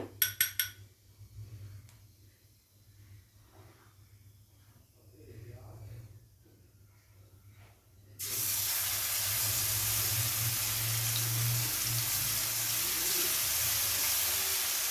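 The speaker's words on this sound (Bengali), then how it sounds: "ফোড়নটাকে হালকা নাড়াচাড়া করে ভেজে নেব।" Spice tempering frying in hot oil for a vegetarian potato and pointed gourd korma, a loud steady broadband sizzle that bursts in abruptly and runs continuously after a quieter stretch.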